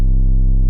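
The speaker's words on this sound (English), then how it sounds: "we're going to be talking about distorted basses." A single sustained distorted bass note from a music production beat, loud and steady with a buzzy harmonic tone, cutting off abruptly after under a second.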